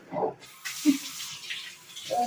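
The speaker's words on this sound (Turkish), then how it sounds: "Dur şunu da ben de yıkayayım sana." Tap water runs into a kitchen sink while vegetables such as peppers are rinsed, a steady close hiss broken by a few soft splashes and low handling thumps.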